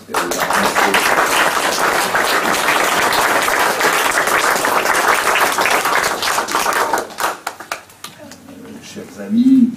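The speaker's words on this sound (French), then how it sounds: "on peut applaudir très fort Yvette" An audience at a Holocaust remembrance ceremony in Lamotte gives Yvette loud, sustained applause that fills the room for several seconds, then thins to scattered claps as a voice briefly takes over.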